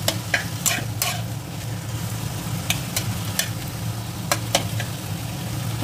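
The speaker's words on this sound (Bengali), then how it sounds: "এবার টমেটোটা একটু ভালোভাবে এতে বাটারে নেড়ে ছেড়ে নেবো।" Tomato and capsicum frying in butter in a pan for pav bhaji, stirred with a utensil; a continuous close sizzle with sharp scraping strokes at irregular intervals.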